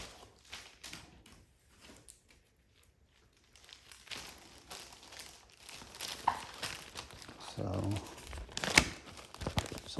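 A smoky plastic bag around weight bench parts crinkles and rustles up close during unboxing, faint at first and growing busier toward the end.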